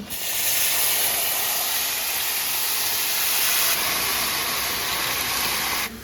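Tamarind water poured into a hot tempering of mustard seeds, chillies, curry leaves and turmeric, giving a loud, steady sizzling hiss that lasts several seconds before cutting off abruptly.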